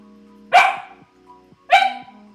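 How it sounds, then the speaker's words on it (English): A puppy barks twice, loud and close, with a quiet pause between the sharp yaps; a faint steady hum runs beneath. "I have my puppy here, as you can hear"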